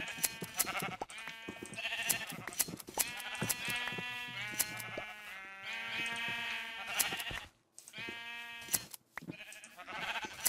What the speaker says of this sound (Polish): Szare owce też hoduję